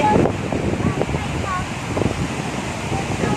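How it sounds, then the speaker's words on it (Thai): Steady, strong wind roars and buffets the microphone outdoors in an Irish forest, a continuous blustery rush with some water-like noise underneath. "ลมแรงมากเลย"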